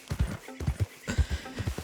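A Red Dead Redemption 2 horse clip-clops along in a steady walking rhythm, with close, clear double hoofbeats and a brief snort or whinny-like sound mixed in partway through.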